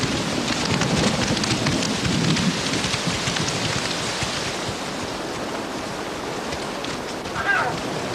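Heavy rain pouring steadily in a dense hiss, with low rumbling suggesting distant thunder underneath.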